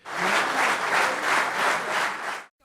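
SDSM party members and supporters at a political gathering break into loud, sustained applause, a dense crowd of clapping that swells in waves and then cuts off abruptly.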